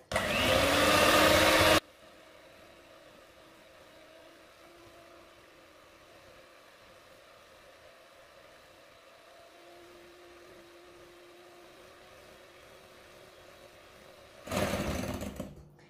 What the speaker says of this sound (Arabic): فانا غادي نستعمل الدراب الكهربائي